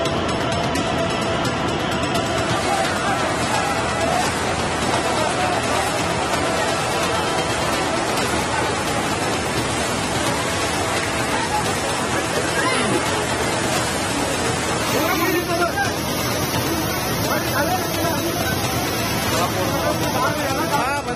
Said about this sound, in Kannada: ಧಾರಾಕಾರ ಮಳೆಯ ನೀರು ಶ್ರೀ ರೇಣುಕಾ ಯಲ್ಲಮ್ಮನ ದೇವಸ್ಥಾನಕ್ಕೆ ನುಗ್ಗಿದೆ